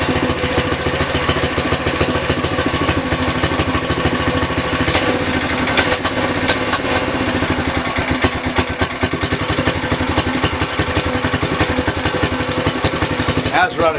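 A Tecumseh engine on a garden tiller runs at slow throttle, a loud, close, steady chugging with distinct rapid piston beats that never lets up.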